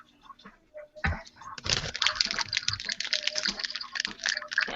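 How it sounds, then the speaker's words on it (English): A paper plate is crumpled by hand, giving a dense, continuous crackling close to the mic that resembles rapid keyboard typing, after a few brief handling taps at the start. "crumbling up a paper plate sounds like typing."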